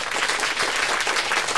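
A church congregation gives a steady, dense round of applause during a sermon. It sounds fairly loud and even throughout the short clip, with no clear talking over it.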